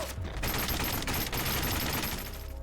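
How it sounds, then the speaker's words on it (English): Suppressed weapon gunfire from the CROWZ first-person shooter game, a dense, continuous burst of muffled shots layered over game effects for nearly three seconds at steady loudness. "So there you can hear what a suppressed weapon sounds like"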